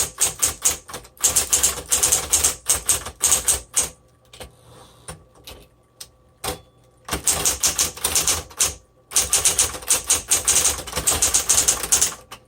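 A 1960s Smith Corona Coronet typewriter being typed on, with loud, rapid bursts of clacking keystrokes and a quieter, sparser stretch in the middle before the fast typing resumes.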